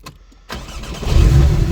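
A 2017 Porsche Cayman 718 engine cranks and catches, then settles into a deep, loud idle rumble close by, with no talking.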